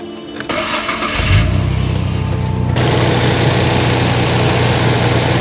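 A tuned Nissan GT-R with a freshly fitted drive belt cranks briefly, fires up with a loud catch, and settles into a steady, rumbling idle. No squeal can be heard.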